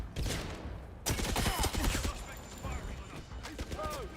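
Gunfire from snipers in the 007 First Light video game, a burst of loud rapid shots followed by scattered cracks and mechanical clatter, with some game noise under it.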